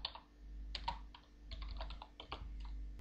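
Quiet, close keystrokes on a computer keyboard entering commands in the Aardwolf MUD text game, a few short bursts of clicks over a low steady hum.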